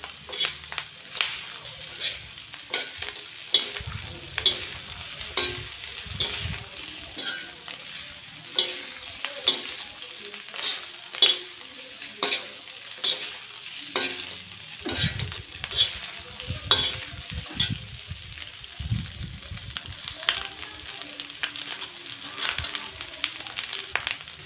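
Rice mixed with fresh coriander is stirred in a hot pan, with repeated scraping strokes of the spoon over a light sizzle, the strokes coming in uneven bursts.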